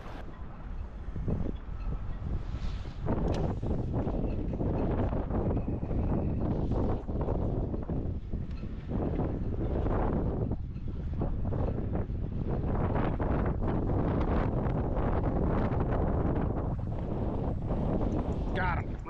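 Strong wind buffets the microphone on an open lake while fishing for brown trout from a lone boat, a loud continuous roar with gusty surges and no break.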